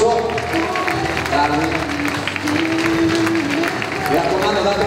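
Audience applause at a Christmas figure skating show in Montecchio Precalcino, with steady, dense clapping throughout while a voice talks over it.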